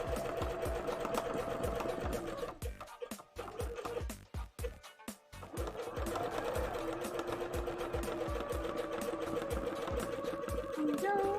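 A sewing machine stitches a zigzag through cosplay fabric, a steady close rhythmic clatter that runs most of the time, falters and stops briefly near the middle, then picks back up and keeps going.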